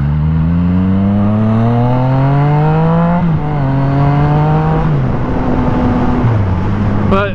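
Yamaha FZ09 motorcycle engine revving hard for a wheelie, loud and close, rising through the gears with several shift dips and a final sharp blip.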